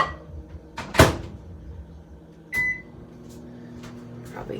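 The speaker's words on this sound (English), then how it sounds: "I'm gonna throw this in the microwave" A microwave door thuds shut, a beep sounds, then the oven starts up with a low steady hum running close by, heating cookie ingredients.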